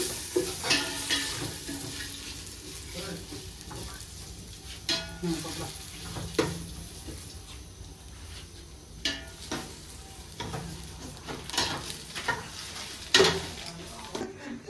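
Onions fry in hot oil with bay leaf in a pan, giving a soft, low sizzle broken by repeated scraping stirs and light utensil clinks, heard fairly close and quiet.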